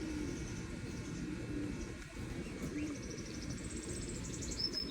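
Pigeons imported from Oman and Dubai coo softly in low, repeated throaty calls under a constant hum, with faint chirps higher up.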